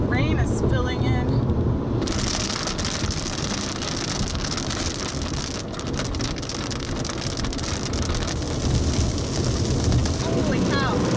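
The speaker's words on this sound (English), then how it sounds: "The rain is filling in." Steady heavy rain pours down during a violent tornado storm chase near Ashby, Minnesota, a dense continuous hiss with a rumble of wind and vehicle noise, and excited voices talking over it.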